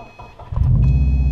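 A manual-transmission car is started with the clutch pedal pressed to the floor: a brief starter crank, then the engine catches and settles into a steady, close idle.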